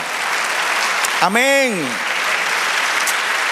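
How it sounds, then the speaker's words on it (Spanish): A church congregation breaks into steady applause for the Lord, with one voice rising briefly over the clapping in a sung call before the sustained applause continues. "Dale otro aplauso al Señor."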